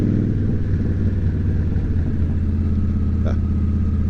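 A motorcycle exhaust rumbles low and steady on a midnight ride into town over an overpass, a constant throbbing drone with faint road and wind noise.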